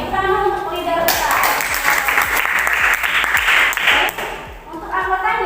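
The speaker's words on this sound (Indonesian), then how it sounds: "Tepuk tangan untuk leader kita." Applause for group leaders in a classroom lesson: a burst of many hands clapping starts abruptly and continues steadily for several seconds, with voices under it.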